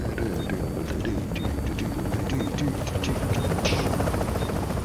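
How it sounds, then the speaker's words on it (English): An extraction helicopter in the video game The Division approaches with a steady, chopping rotor beat that stays fairly loud over a constant whooshing wind-like background. "Chopper is inbound."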